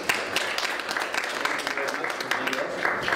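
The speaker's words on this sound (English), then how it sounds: "How about a round of applause for our legislators?" A crowd applauds legislators at a media symposium with dense, steady clapping that fills the room, while a voice talks faintly underneath.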